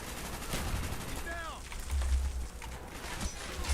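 Gunfire from a Call of Duty game, a burst of shots and clattering fire under a noisy mix of game sounds, with a brief swooping effect partway through and a louder low thump near the middle.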